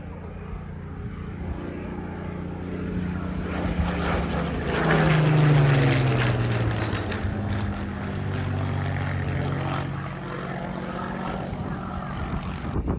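A Spitfire propeller aircraft flies over at the Cotswold Airport open day. Its engine drone swells as it nears, peaks loud overhead, then fades away with a falling pitch, and nobody talks.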